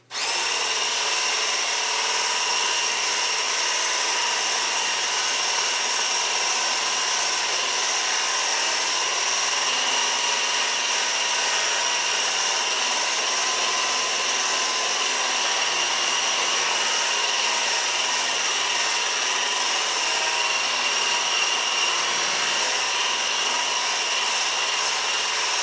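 An electric hand mixer runs on high whipping a homemade shaving cream mixture, a continuous, steady motor whine with no breaks, close and fairly loud, no voices.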